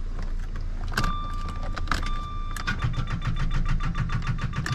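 A 1995 Jaguar XJ6 struggles to start, its starter motor cranking in repeated whirring bursts with a rhythmic chug, close up, without the engine catching.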